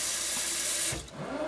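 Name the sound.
water poured into dehydrated chicken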